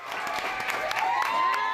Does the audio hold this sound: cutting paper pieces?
no